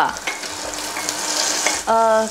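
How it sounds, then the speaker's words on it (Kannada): Sweet corn kernels fry in a pan for sweet corn soup, a steady close sizzle with stirring scrapes, ending in a short beeping tone. "ಜೋಳನೂ ಇದರಲ್ಲಿ ಸ್ವಲ್ಪ ಫ್ರೈ ಮಾಡ್ಕೋಬೇಕು."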